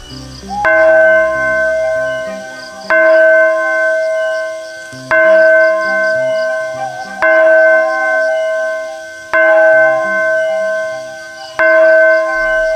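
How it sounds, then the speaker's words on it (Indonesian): A school bell rings loudly in repeated strikes, six resonant metallic tones spaced about two seconds apart, each ringing out and decaying over a low eerie background. "lonceng sekolah berbunyi dengan kencangnya"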